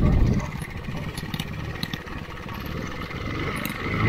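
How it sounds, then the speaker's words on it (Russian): A 50 cc motorcycle idles nearby, an engine that runs at idle but lacks power under load, giving a steady close putter with light clatter. "мотоцикл работает на холостых оборотах нормально"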